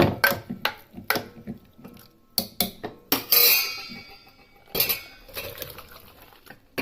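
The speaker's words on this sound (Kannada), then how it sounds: "ಈ ದೊಡ್ಡ ಪಾತ್ರೆಗೆ ನಾನು ಬಗ್ಗಿಸ್ಕೊಳ್ತಾ ಇದ್ದೀನಿ." Cooked vegetables for a brinjal sambar are tipped from one vessel into a large pot, with close metallic clanks and scrapes in uneven bursts, one longer rushing pour, and quiet gaps between, without talking.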